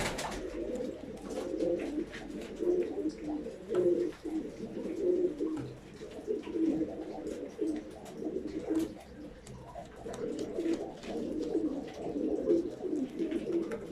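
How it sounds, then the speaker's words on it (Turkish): Pigeons in a coop coo repeatedly while in heat, overlapping throaty calls rising and falling in steady cycles, close and moderately loud throughout. "Bakın arkadaşlar kuşlar kızışmış. Sağlıklı kuşlar böyle arkadaşlar."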